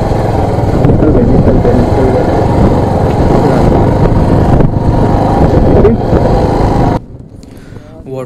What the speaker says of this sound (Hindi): वाटर क्रॉसिंग करते टाइम बाइक को फर्स्ट गियर में रखो और बहुत ज़्यादा एक्सेलरेट करो।